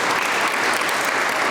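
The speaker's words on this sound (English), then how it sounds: "we've got to give them a round of applause" An audience at a business event in Buda, Texas gives a short, dense round of applause that stays loud and unbroken, with no voices over it.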